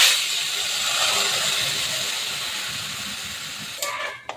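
Ingredients hit hot oil in a pan and set off a loud, steady hissing sizzle that fades slightly before a few clattering knocks near the end.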